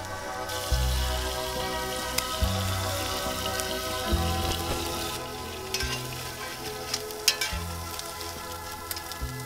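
Food sizzles and crackles steadily in a hot pan as it cooks until browned, with scattered sharp pops over a continuous frying hiss, close and fairly quiet, no talk.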